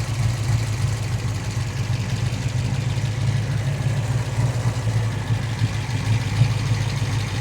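A 1969 Chevrolet Camaro with a 396 big block V8 idles steadily with a deep, even rumble and no talk over it.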